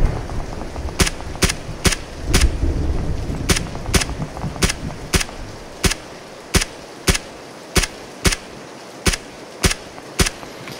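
Sharp gunshots in the video game Battlegrounds (PUBG) ring out one at a time at a steady, evenly spaced pace over a low rumbling background.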